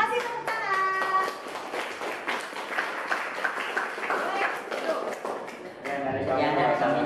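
A classroom of students claps after a presentation, a dense, fairly loud patter of many hands that carries through, with some voices calling out over it.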